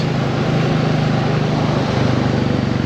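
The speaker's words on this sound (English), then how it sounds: "I hope you can hear the sound of that exhaust" Royal Enfield Bullet 350 motorcycle exhaust, a loud steady low thumping drone with an even pulsing beat held throughout.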